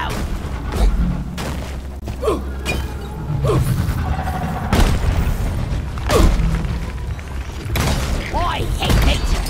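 Drop pod machinery in the video game Deep Rock Galactic, with repeated heavy mechanical booms, clanks and creaks spaced a second or two apart, alongside game voice lines and other effects.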